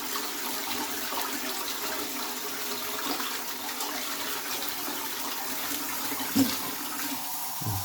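An old-style ceramic toilet flushes and its tank refills through a newly fitted float valve, a steady close rush of water running throughout with a brief knock near the end, no talking.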